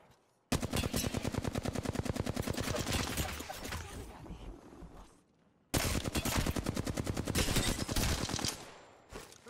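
Rapid automatic gunfire in a video game, two long, loud bursts of evenly spaced shots separated by a short lull, close and dominant.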